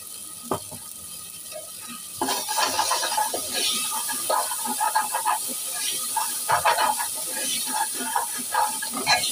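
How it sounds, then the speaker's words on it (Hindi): Masala spices with kasuri methi frying in a pan, a steady close hiss and sizzle that grows louder partway through and keeps crackling, with occasional clinks of a utensil against the pan. "मसाला अच्छी तरह भून लेंगे, फिर मसाला भून लेते हैं"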